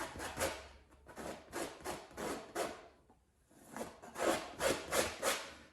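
A painting tool scrapes paint across canvas to form a mountain, a series of close rhythmic rasping strokes in two bursts separated by a short pause.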